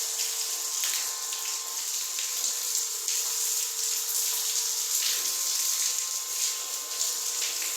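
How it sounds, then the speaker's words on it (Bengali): An electric water pump runs with a steady tonal hum while water drawn from a drum gushes and splashes continuously at close range. "ওই যে এখন মেশিন চালাইছি, আর বাবা জল দিচ্ছে"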